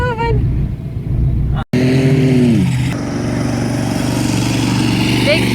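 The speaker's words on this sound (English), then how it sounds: "Oh, they're doing burnout!" Vehicles doing a burnout on a sandhill, loud engines roaring and revving continuously with shifting pitch as they strain in the sand, close and dominant, with a brief dropout partway through.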